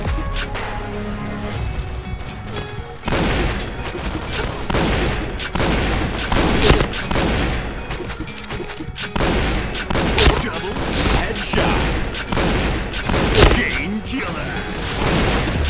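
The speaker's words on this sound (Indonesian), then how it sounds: "Karena jarang yang main shotgun, gua akhirnya mencobanya di sini ya guys." Shotgun fire in a first-person shooter game: dense, repeated booming blasts and crashes fill the whole stretch with loud, irregular shots close up, with a voice speaking over parts of it.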